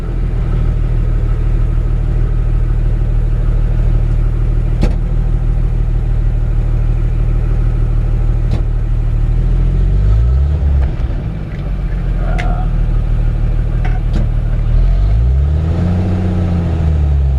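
A 1954 Chevrolet 3100 pickup with a 235 six-cylinder and column-shift three-speed runs steadily, a loud, deep, even drone heard from close by with a couple of brief swells in engine speed.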